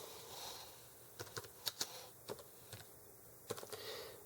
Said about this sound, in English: forgive my slow typing with the one hand here